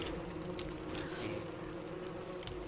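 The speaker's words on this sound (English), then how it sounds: "Killer bees." Killer bees from Don't Starve: Reign of Giants make a steady, faint insect buzz that drones continuously with no talk over it.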